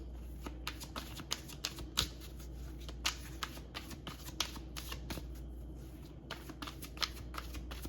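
Tarot cards are shuffled and drawn close up: a quick run of crisp riffling flicks and light slaps with a steady rhythm over a low background hum, and no voices.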